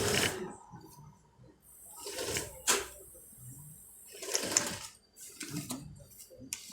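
Sewing machine stitching the yoke of a shirt gown, running in short uneven bursts with brief pauses between, moderately close and fairly quiet.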